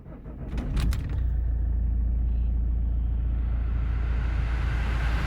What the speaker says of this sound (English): The fan speed comes on at full blast.